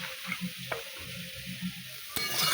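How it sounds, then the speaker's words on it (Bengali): Chicken frying in a little oil with ground chili and spices, stirred in a pan, gives a steady low sizzle with soft spoon scrapes and a sharper clatter near the end. "মশলাটা ভালো করে মশলার সঙ্গে একদম কষিয়ে নিয়েছি আর যতটা পরিমাণে তেল কম দেওয়া যায় কম তলে রান্না করছি"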